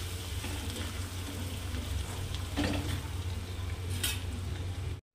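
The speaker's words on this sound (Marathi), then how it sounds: "आता याला छान असं मिक्स करून घ्यायचं आहे।" Kolhapuri bhadang, spicy puffed rice, being stirred and mixed with squeezed lemon juice in a bowl or pan, a steady close scraping and rustling, with a brief louder stir midway, no talking.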